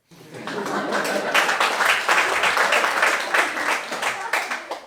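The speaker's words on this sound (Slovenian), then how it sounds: "Dajmo najprej en aplavz za Andrića" Roast battle audience claps for a comedian, a dense burst of applause that swells and holds for several seconds at close range, with no talk over it.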